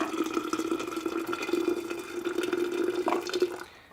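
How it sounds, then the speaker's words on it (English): Two cups of boiling water are poured over tea bags for kombucha, a steady, close trickling stream of liquid that runs for several seconds before cutting off near the end. "now I'm going to go ahead and pour 2 cups or 500 milliliters of boiling water"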